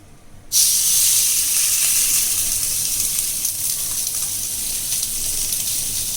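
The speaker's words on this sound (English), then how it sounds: "drop in the fish." Fish dropped into hot olive oil in a pan, a sudden loud hiss that starts abruptly and continues as an even, bright sizzle, close up with no talking.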